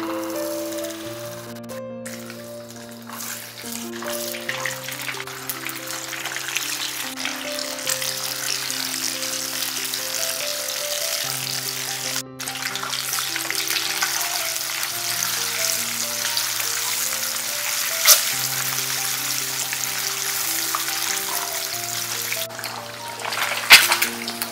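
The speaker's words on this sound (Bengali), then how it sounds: "দিয়ে দিচ্ছি 1/4 কাপ সর্ষের তেল। প্রথমেই ডিমটা ভেজে নেব।" An egg frying in about a quarter cup of mustard oil, a steady close sizzle running throughout, with background music playing over it.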